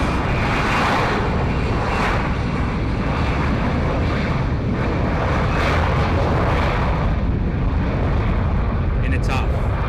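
A jet taking off on the runway at San Juan's Luis Muñoz Marín International Airport, a loud, steady engine roar with wind buffeting the microphone throughout.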